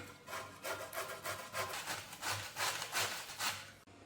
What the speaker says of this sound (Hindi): अब मैं इसको घिस लूँगी,